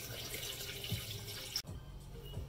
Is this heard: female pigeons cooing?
no